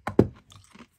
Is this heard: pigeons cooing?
no